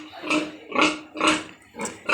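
A mother sow grunts in four loud, rough bursts spaced about half a second apart, close to the microphone at a pig farm, with no talk over it.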